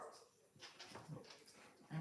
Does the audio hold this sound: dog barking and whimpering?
yes